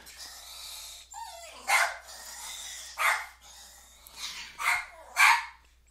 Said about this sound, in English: My little doggy thinks it's really important to bark right now and mess up my video.